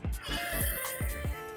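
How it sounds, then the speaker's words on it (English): Hidden wire saw biting into steel in rapid, rough strokes, a gritty rasping pulse repeating several times a second, close and loud, with no other sounds. "That's the sound of the saw biting in there."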